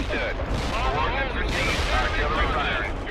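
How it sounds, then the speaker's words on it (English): A precision artillery strike pounds tanks in the World in Conflict video game, a dense barrage of rumbling blasts and gunfire rolling on continuously beneath battle chatter. "To blow up these tanks, I can bring in the precision artillery."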